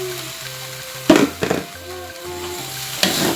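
Rice vermicelli with mustard greens stir-frying in a pan gives a sizzle and crackle, with a few sharp scraping stirs standing out over a soft, pulsing hum.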